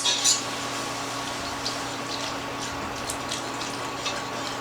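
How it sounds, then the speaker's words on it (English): Whole milk pours slowly into a roux in a pan while it is stirred. The result is a faint, steady liquid hiss with occasional light ticks from the utensil and no voices. "Now we're going to slowly add our 3 cups of whole milk, continually stirring because you don't want lumps."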